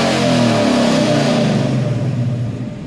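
A Ford Mustang engine is held at full throttle during a crank relearn, giving a loud, sustained, close-up roar with the pitch climbing steadily, with no voices.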